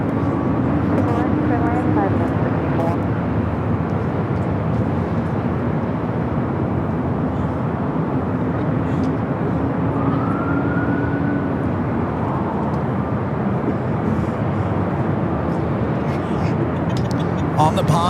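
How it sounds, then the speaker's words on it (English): A Boeing 787 Dreamliner taking off for Tokyo Narita from the north side at LAX, a loud sustained jet engine roar with a rising whine, steady and near, while a voice talks over it. "the Dreamliner heading back to Tokyo Narita, heading up here for Northside at takeoff"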